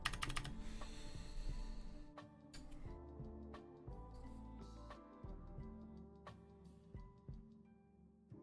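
Typing on a Vortex Pok3r mechanical keyboard, 7th dimension edition: a steady run of sharp, close key clacks in quick irregular bursts, with no talking.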